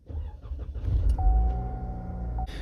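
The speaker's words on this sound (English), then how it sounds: "So we're just going to start the car, and we're expecting a yellow light to be on." A Cadillac ATS engine starting up, a low rumble swelling into a steady idle, with a thin electronic tone running through the middle and a short click near the end.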